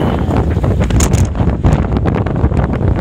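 Strong wind of about 19 knots roars and buffets steadily across the microphone aboard a sailboat at night, loud and close with no talk, drowning out any other sound.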